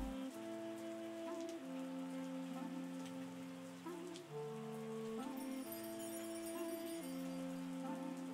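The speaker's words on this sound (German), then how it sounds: "Es kommt wieder Regen." Steady rain patters across the fields in the winemaking video game Terroir, a soft continuous hiss sitting under looping tonal game music throughout.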